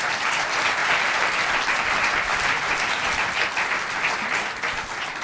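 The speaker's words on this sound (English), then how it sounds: "If I could get a round of applause." Sustained audience applause at the close of an interview session, dense and steady clapping from a room full of people throughout, with no talk over it.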